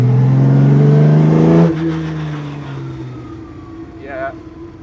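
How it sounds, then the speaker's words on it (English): Race-tuned engine of an original 1950s factory works Jaguar D-Type revving loudly up close, the pitch rising then dropping away as the revs settle into a lower idle-like drone. "considering this is a race-tuned engine, that is picking up remarkably well"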